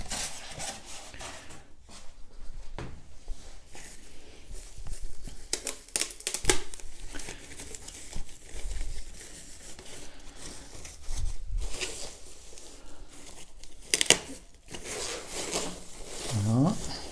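A heavy packaged part, the base section of a stand, is unwrapped from its bag, with close crinkling, rustling, scraping and occasional knocks in an irregular rhythm, moderately loud and without talking.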